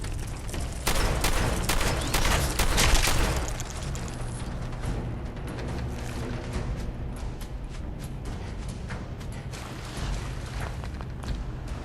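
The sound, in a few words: gunfire in Fallout 4 video game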